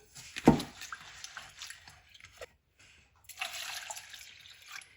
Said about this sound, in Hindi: ये भी दाल, इसको भी 3 दफ़ा धो लेंगे।